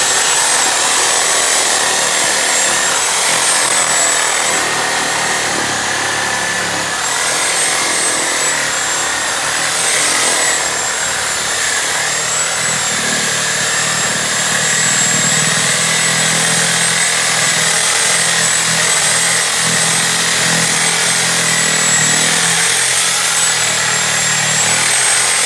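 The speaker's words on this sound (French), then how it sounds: "Vous prenez votre scie, vous partez par en bas." A saw cuts through a moose carcass from the neck in hot weather, a loud, close, unbroken grinding rasp that runs for about twenty-five seconds with no talk.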